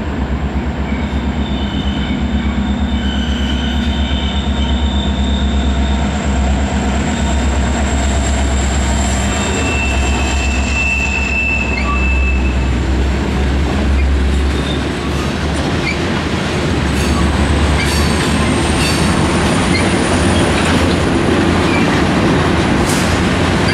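A freight train rumbles past close by near the northern New York–Canadian border, a steady heavy roar of wheels and cars with faint clanking and a thin high squeal running throughout.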